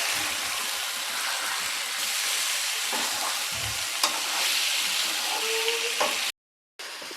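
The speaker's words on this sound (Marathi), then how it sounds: "आता आपण कोलंबी टाकूया. परतून घ्यायचं आहे चांगलं." Prawns sautéed in a hot pan for a spicy cashew prawn masala give a steady, close sizzle with occasional stirring scrapes. The sound breaks off briefly near the end.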